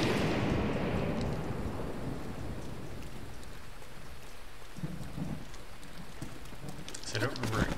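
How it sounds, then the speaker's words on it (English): Video game thunder rumbles heavily at first, then rain keeps hissing steadily, with brief muffled voices near the end. "Everything's getting struck by lightning."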